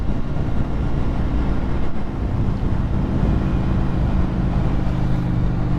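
Indian FTR 1200 motorcycle cruising in fourth gear at about 40 mph, a steady low engine rumble mixed with heavy wind rush, continuous and even throughout.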